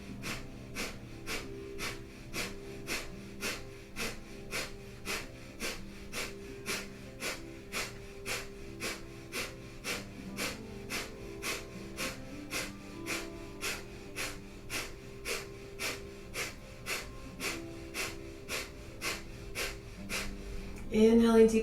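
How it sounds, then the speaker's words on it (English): Forceful, rapid breath of fire from a Kundalini Yoga kriya for the spine: a steady train of short, sharp breaths, roughly one or two per second, runs over soft background music with tones that shift, and it ends in a louder final moment. "Last 20 seconds, powerful breath of fire."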